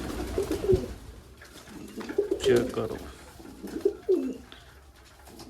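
Soft, low pigeon coos repeat in short rounded phrases, several in a row, close by, with a voice speaking briefly over them.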